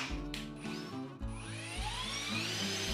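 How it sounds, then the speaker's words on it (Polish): Cordless drill-driver sinking a screw all the way into a pre-drilled pilot hole, a close, steady motor whine with a rhythmic ratcheting under load that briefly dips, then resumes and runs continuously to the end. "Tym razem wiertarko-wkrętarka zagłębiła wkręt do samego końca"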